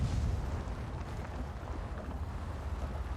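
A heavy high-explosive tank shell goes off in World of Tanks, fired from the EBR 75 FL10 light tank, with a deep booming rumble that swells at the start and then rolls on as a steady low roar.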